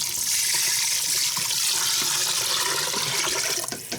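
Liquid pours in a steady hissing, splashing stream into an Instant Pot, loud and close, tapering off near the end.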